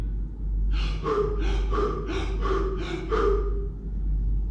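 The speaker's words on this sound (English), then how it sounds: "right after the breath holding, I am inhaling, exhaling uncontrollably" Rapid, uncontrolled breathing right after a breath hold: a run of about eight close, rhythmic gasping inhales and exhales, fairly loud and near, over a steady low background rumble.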